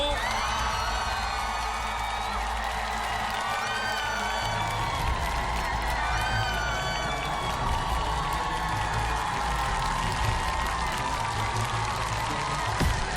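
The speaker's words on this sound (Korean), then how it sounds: "박수로 맞아주십시오" A packed studio audience at the Mr. Trot singing competition applauds and cheers to welcome singer Lim Young-woong onstage, a dense, steady roar of clapping and whoops that fills the whole stretch without letting up.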